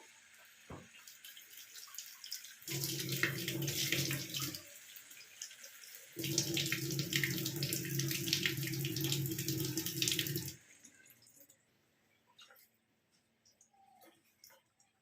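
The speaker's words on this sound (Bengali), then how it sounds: "এর মধ্যে আমি এবার একটু জল দিয়ে দেবো।" Water pours into a pan of fish curry with oil and potatoes in two steady bursts, each lasting a few seconds. A short pause separates them, followed by quieter kitchen sounds.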